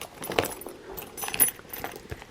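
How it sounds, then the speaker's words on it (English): A set of car keys jangles softly as it is slipped into a small pink Louis Vuitton Nano Diane handbag, giving a few faint, close metallic clinks and rustles. "But obviously a set of car keys will go in there"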